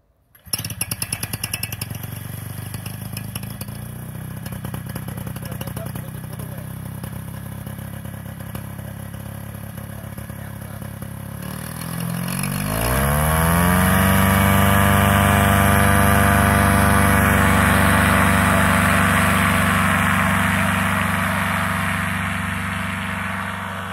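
A model aircraft engine fires up in the pit and runs up close, first a steady buzzing idle, then a sharp rev up to a loud, high, sustained whine that holds to the end.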